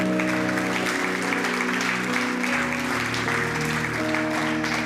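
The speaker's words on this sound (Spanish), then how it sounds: "Dale un aplauso al Señor" A church congregation claps together in a steady, dense burst of applause that fills the hall, over sustained background music.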